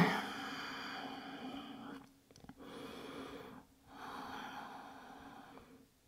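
Slow, audible breaths while resting in yoga child's pose: long airy exhalations and inhalations separated by brief pauses, close and soft over a faint background hum.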